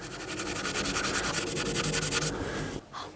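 Dirty garden tools being scrubbed clean with soap: a close, steady rhythmic rubbing and scraping that runs for a few seconds before stopping abruptly.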